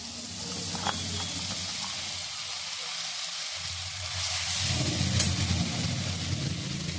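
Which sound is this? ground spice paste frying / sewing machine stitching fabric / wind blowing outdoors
ground spice paste frying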